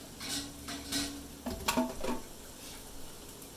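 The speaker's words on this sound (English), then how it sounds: "my pan is hot. as you can hear from that little sizzle" Food added to a hot pan while cooking fried chicken gives a brief, soft sizzle, mixed with a few light clinks of utensils against the pan, close by.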